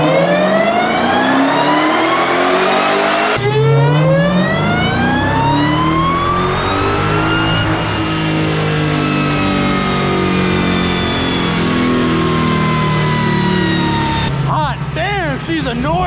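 Dodge SRT Demon 170 on a dyno, its engine screaming through rising rev sweeps that climb and hold very loud and close, with a sharp drop and wavering wind-down at the end.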